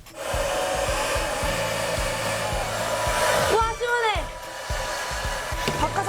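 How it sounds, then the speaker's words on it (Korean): A hair dryer blows steadily on wet hair, set to cool air, a loud continuous whoosh running throughout with brief bumps and shifts as it is moved around, and faint voices mixed in underneath. "드라이기로 말리고 있습니다"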